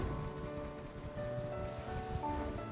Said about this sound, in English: We can't do it with this rain.